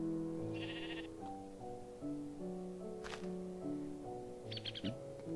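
Sheep bleating in Minecraft on a Tekkit server, a few wavering game bleats over steady music tones, one sharp thump midway.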